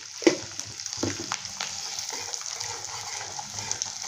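Spices, turmeric and crumbled leftover chapati are stirred as they fry in a pan for chivda, a soft close sizzle with scattered clinks and scrapes of the spoon, no speech.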